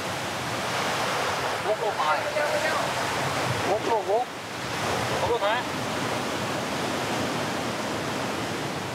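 Constant, dense rushing roar of cascading water on the Mekong in Vietnam fills the scene, with voices briefly speaking over it.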